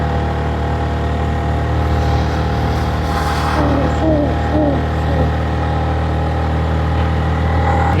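Motorcycle engine labouring up a steep hill in first gear on a rural road in Perak, a loud steady droning hum held throughout, with a voice speaking briefly over it.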